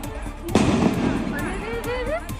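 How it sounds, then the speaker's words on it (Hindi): A series of bomb explosions near a house during an attack, heard as a burst of sharp blasts followed by crackling and whistling tones, mixed with voices of people nearby. "जिसके बाद वहां से एक के बाद एक कई धमाकों की आवाज भी सुनाई दी"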